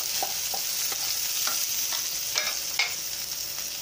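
Onion and tomato sizzle steadily in a hot pan while a spoon scrapes and stirs in short, irregular strokes.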